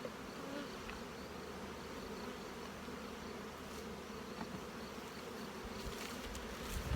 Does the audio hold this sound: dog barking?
no